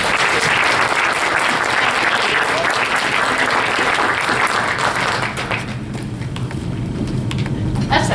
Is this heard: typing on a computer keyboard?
no